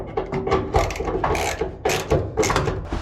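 Bolts on a Tri-Five Chevy car door are tightened with a ratchet, a close, busy run of rapid clicking and mechanical ratcheting strokes with no talk.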